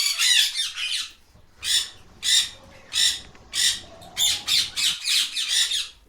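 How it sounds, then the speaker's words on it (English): A parrot squawks in a series of about a dozen loud, harsh calls, closely spaced bursts with a short pause near the start, heard alone without speech. "This is a parrot. P for parrot."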